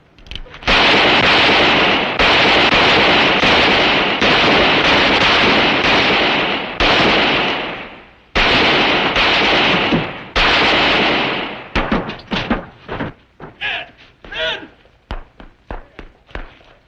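Gunfire from a western TV drama: a string of sharp, loud shots ringing out in a long, dense volley, then a quieter, scattered tail of individual shots and echoes.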